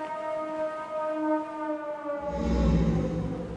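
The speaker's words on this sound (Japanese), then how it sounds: "灯台がまたサイレンを鳴らしている" A lighthouse siren in a horror video game, a steady eerie tonal drone with stacked harmonics that swells louder and grows denser with a rumbling low layer about two-thirds of the way through.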